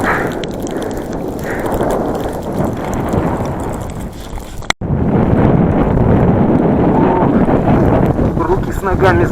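Strong headwind carrying snow roars steadily into the microphone during an uphill climb in Sichuan, China, with a brief cutout midway before the buffeting resumes just as loud.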